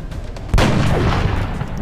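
A sniper shot fired in the tactical game XCOM: Enemy Within: one sharp, loud report followed by a long, booming rumble that lingers to the end.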